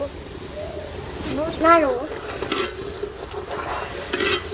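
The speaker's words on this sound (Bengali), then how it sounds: "দুধটা এইভাবে নাড়তে হবে সবসময় ঘন ঘন" Milk being stirred in a pan on the stove makes soft scraping and swishing with a low sizzle, and a voice is briefly heard over it.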